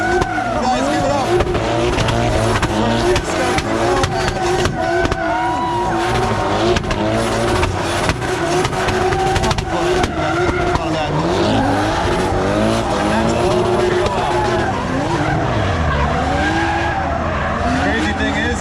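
Drift cars at a drifting event skidding with squealing tires and revving engines, loud and sustained throughout, with people talking over the noise.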